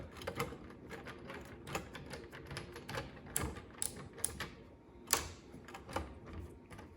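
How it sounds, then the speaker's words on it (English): A ratcheting screwdriver turning a screw, producing a faint, rapid series of dry clicks in irregular bursts, close by with no talking. "I really like this ratcheting screwdriver."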